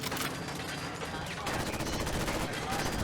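Gunfire in the video game Fallout 4, rapid dense bursts of shots forming a continuous fusillade, loud and close, with a voice briefly speaking over it.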